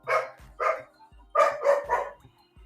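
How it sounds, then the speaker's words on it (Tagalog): A dog barks five times nearby, two sharp barks followed by a quick run of three, with short pauses between. "Hingi ng aso ko eh."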